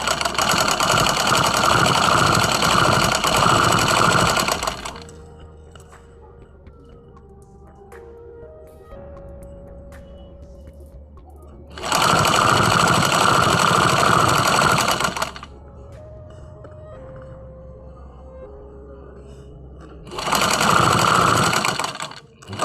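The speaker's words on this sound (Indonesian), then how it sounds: "Kemudian menjahit bagian bawah supaya tidak bertiras." Three loud bursts of a sewing machine stitching the bottom hem of a sleeve, each a steady hum lasting a few seconds, close by, with quieter gaps of soft handling and faint tones between runs.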